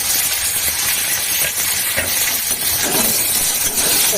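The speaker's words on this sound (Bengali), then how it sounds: "ভাজবে সুন্দর করে আমি ভাজবে ব্রাউন করে ভেজে নিলাম" Onion, ginger, green chilli and tomato fry in a pan with a loud, close, hissing sizzle and occasional clinks. The hiss holds steady for a few seconds with no talk.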